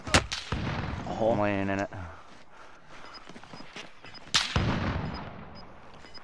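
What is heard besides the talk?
gunfire in a video game shooter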